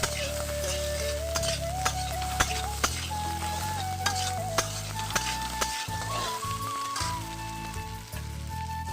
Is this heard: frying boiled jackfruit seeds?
yes